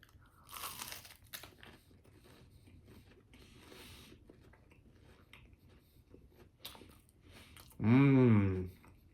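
Crunchy churros with dulce de leche being bitten and chewed up close, with scattered crisp crunches and soft mouth noises, followed by a brief loud hum of approval near the end.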